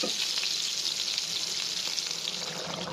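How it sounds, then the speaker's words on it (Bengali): Pointed gourd (potol) frying in a pan gives a continuous, close, hissing sizzle with faint stirring scrapes, steady throughout without talk. "এটা তুলে রেখে আবার পটল ভাজতেছি"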